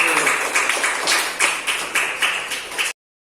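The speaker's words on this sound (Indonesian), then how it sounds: "Tepuk tangan untuk kelompok 1." A classroom of students applauds group 1 with brisk, close clapping and a few louder bursts of claps, alone without talk, stopping abruptly.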